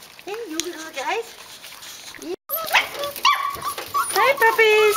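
Kelpie puppies whimpering and yipping, several high whines and yelps overlapping close up while a person talks to them.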